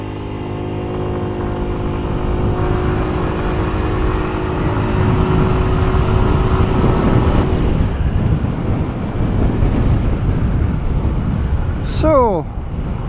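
A 2023 Kymco Agility S scooter engine starts and settles into a steady idle hum, then gives way to louder rushing wind and road noise as the scooter rides off, with a brief sweeping tone near the end.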